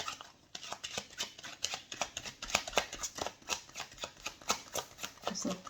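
A deck of tarot cards shuffled steadily and close up, producing a regular train of crisp papery riffles and taps for several seconds, with no talk over it.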